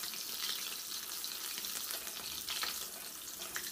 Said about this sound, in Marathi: आता आपण यांना छान क्रिस्पी होईपर्यंत तळून घेऊ